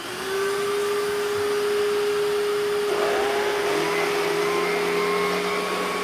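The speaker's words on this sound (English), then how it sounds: "If you listen closely, the belt in it vibrates." A Chinese-made Electrolux-style vacuum cleaner power nozzle runs loudly and steadily, its motor whine joined by a rattling, vibrating belt that shifts in pitch partway through.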